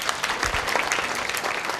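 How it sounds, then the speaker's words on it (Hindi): Audience applause fills a hall at a student entrance-exam and guidance event, a steady burst of many hands clapping at moderate volume with no talk over it. "एक बार नीतीश कुमार जी की तालियां हो जाए।"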